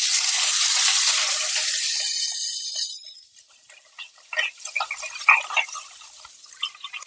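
A bay leaf dipped in flour batter sizzles in hot oil, a bright, steady frying hiss that thins out after a few seconds into scattered pops and crackles.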